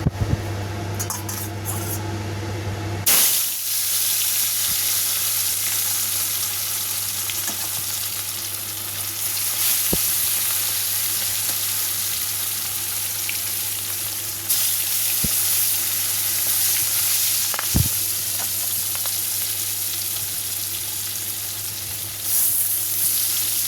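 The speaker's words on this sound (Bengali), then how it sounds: "এদিকে আমি কড়াইতে তেল দিয়ে দিয়েছি, তেলটাও আমার গরম হয়ে গেছে। এবার আমি মাছগুলো ছেড়ে দেবো।" Katla fish pieces rubbed with turmeric and salt drop into hot oil in a kadai and fry with a loud, steady, close sizzle that holds after a quieter opening, with a few faint utensil clinks.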